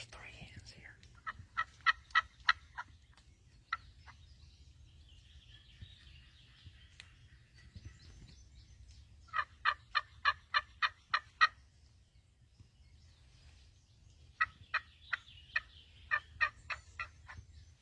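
A wild turkey about a hundred yards off gobbles in three separate bursts of rapid rattling notes, distant but clear over quiet outdoor ambience, with faint whispering between calls.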